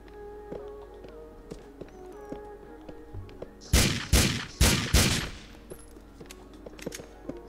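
Four sharp pistol shots fire in quick succession in Grand Theft Auto IV, loud and close, over a quieter backdrop of in-game ambience and tones.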